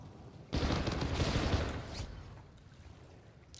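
Gunfire replays in a video game shooter kill cam, a dense burst of rapid shots that starts abruptly, stays loud for about a second and a half, then trails off into a quieter rumble with no talking.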